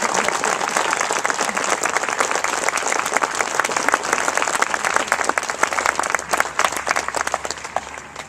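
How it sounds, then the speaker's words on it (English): An outdoor crowd at a military parade and enlistment ceremony claps, with individual hand claps sharply distinct in a lively, uneven burst that stays strong before easing at the end. "So let's give them a big round of applause as well"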